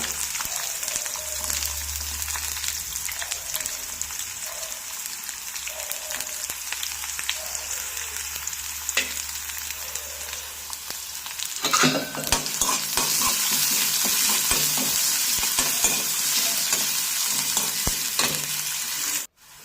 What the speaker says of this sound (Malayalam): നന്നായി വഴറ്റിയെടുക്കുക